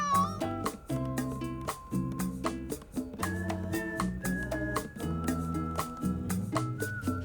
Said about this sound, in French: c'est un bon chat, ça